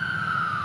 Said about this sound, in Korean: 앰뷸런스가 크게 소리를 내고 가고 있습니다.